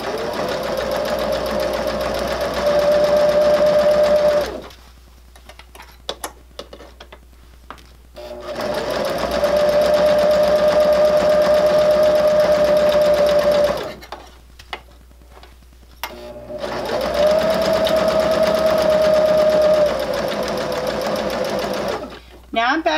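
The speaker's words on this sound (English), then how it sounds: "I'm going to stop my stitching right at the base of my casing" A sewing machine stitches a fabric grocery bag holder in three long, steady runs, each stopping abruptly and followed by short quiet gaps with small clicks and handling noises.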